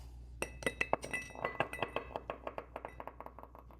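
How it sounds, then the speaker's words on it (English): A hard ice ball clinks and rattles against a glass while making a cranberry old fashioned cocktail, a burst of bright chimes that settles into a steady, quickening series of lighter taps. "Grab an ice ball."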